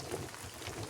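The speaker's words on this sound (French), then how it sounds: "On est sous une pluie pas possible." Heavy rain pouring outdoors at a fishing lake, a dense, even hiss of falling water lasting about a second, fairly faint, with no voices.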